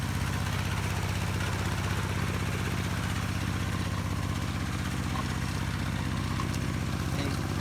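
A motocross motorcycle engine runs continuously as the bike churns through muddy ground, a steady low throbbing hum at moderate distance that persists without pause, with no talking.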